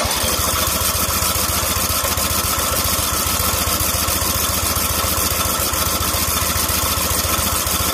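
A small weed eater engine with a freshly rebuilt carburetor, choked, runs steadily with a buzzing, even idle rattle that holds level throughout, with nobody speaking.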